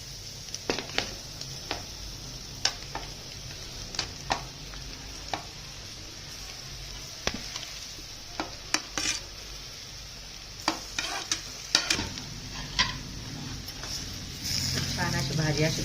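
Boiled potato bhaji stir-fried in a pan with coriander leaves, a low steady sizzle punctuated by sharp spatula scrapes and taps, close by, with someone talking over it at times.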